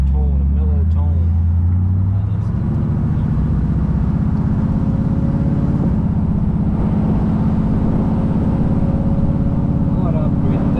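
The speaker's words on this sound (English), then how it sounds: "they're Hollywood mufflers on here. Gives it a deep tone, a mellow tone." A 1956 Ford Sunliner Custom with Hollywood mufflers rumbles in a deep, mellow exhaust tone, idling and cruising close and loud throughout, steady with slight rev shifts.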